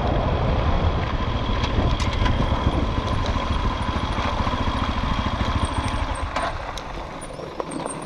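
A scooter engine runs close by, a steady buzzing drone with faint ticking over it, holding fairly loud for the whole stretch before easing off slightly near the end.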